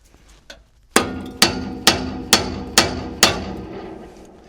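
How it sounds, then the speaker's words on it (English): Six sharp, evenly spaced metallic hammer blows ring out close by, tapping a ball joint loose from a Honda Civic's front suspension control arm, each strike decaying briefly before the next. "I do have to tap this with the hammer though"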